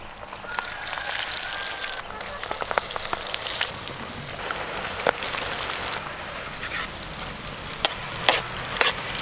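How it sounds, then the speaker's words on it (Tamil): Mutton deep-fries in hot oil, a dense, steady crackling sizzle with scattered sharp pops throughout. "இப்போ மட்டனை போட்டு பொரிச்சு எடுத்துக்கலாம்"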